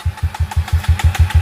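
A Kawasaki motorcycle engine runs close by on a rough road, throbbing in quick, regular low pulses with a buzzy edge. No one speaks.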